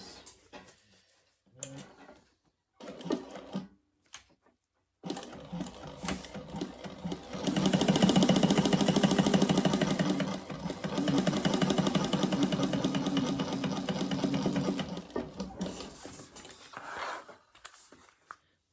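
Close sewing machine stitching a side seam on a slip pocket of a laptop bag, with a few short starts and handling noises, then a long continuous run of rapid stitching that eases off into brief stops near the end.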